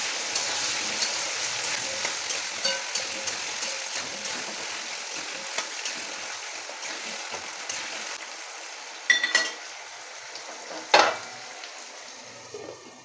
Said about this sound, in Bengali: এবারে আমি আলুগুলোকে খুব ভালো করে ভেজে নেব।